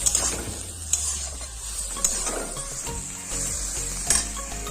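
A pan of water lily stem curry with prawn heads sizzles while a spoon stirs it, scraping the pan in sharp strokes roughly once a second over a constant low frying hiss.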